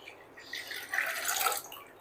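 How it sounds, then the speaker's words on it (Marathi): Cold water is poured into spiced yogurt to make masala buttermilk, a soft splashing trickle that swells for about a second and then fades, quiet and close. "आता ह्याच्यामध्ये आपल्याला टाकायचं आहे मस्त असं थंडगार पाणी."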